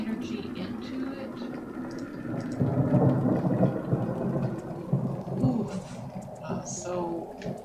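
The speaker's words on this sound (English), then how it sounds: "let's go sleep and get rid of this thunderstorm" Rumbling thunder rolls over steady rain in a video game thunderstorm, a continuous low roar with swelling peaks, while a person talks over it.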